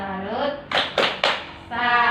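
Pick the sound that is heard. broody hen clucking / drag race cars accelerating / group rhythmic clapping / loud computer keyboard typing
group rhythmic clapping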